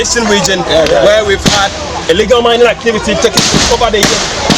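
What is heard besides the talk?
gunshots fired by police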